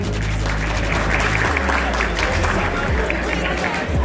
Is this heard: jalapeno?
no